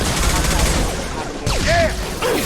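Gunfire in Mass Effect Legendary Edition as combat erupts against hostile mechs, a loud, rapid stream of shots with whooshing weapon effects filling the whole moment.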